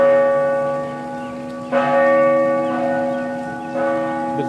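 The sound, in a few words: cathedral bell ringing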